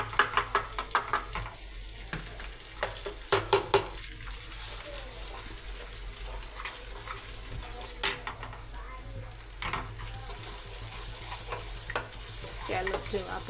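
Spiced masala with a little added water frying in a pan for Gujarati stuffed brinjal shaak: a close, steady sizzle, with a spoon scraping and clattering against the pan in a few quick bursts.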